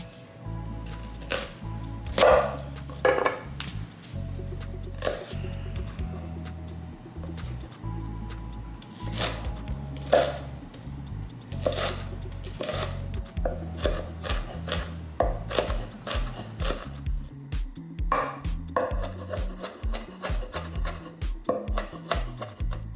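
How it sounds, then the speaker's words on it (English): Knife chopping a shallot on a cutting board while making remoulade sauce, a steady run of close, crisp blade taps with short pauses, no talking. "I have a shallot here. I'm just gonna cut half of it."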